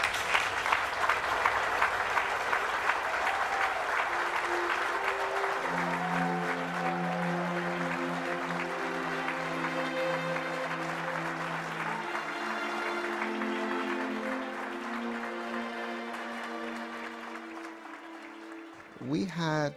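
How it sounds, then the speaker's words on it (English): An audience at a commemorative event applauds foot soldiers of a freedom struggle with sustained, even clapping lasting most of twenty seconds. Swelling music plays underneath, and the applause tapers off as the music fades near the end. "kindly stand now and receive the applause from the audience"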